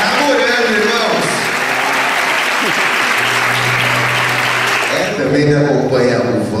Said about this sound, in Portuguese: Uma salva de palmas a Jesus pela vida desses amigos preciosos.